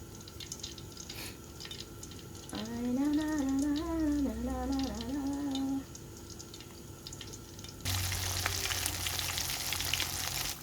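Chicken liver frying in hot oil for a crispy dish, a steady close sizzle throughout, with a wavering tonal hum in the middle and a harsher, louder crackle toward the end.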